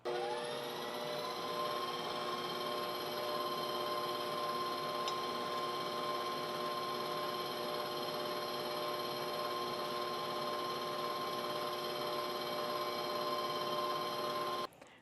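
Electric hand mixer beating angel food cake batter on medium speed, a steady, unbroken motor whine with a strong constant tone running the full length, then cutting off abruptly at the very end.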